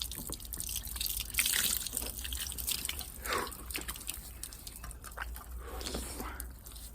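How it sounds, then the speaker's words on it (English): Water from a Melnor garden hose, fed from a buffer tank at a small outdoor wash station, splashes and patters unevenly over hands and gear, fairly quiet and close, with faint drips and no talking. "Simple little Melnor garden hose. Washing up with a hose."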